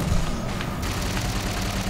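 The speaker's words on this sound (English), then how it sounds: "Oh jeez, I'm getting shot up." Dense gunfire rattles continuously in a Halo 4 Big Team Infinity Slayer match on Ragnarok, loud and close, with booming bursts over a steady battlefield roar and no talking.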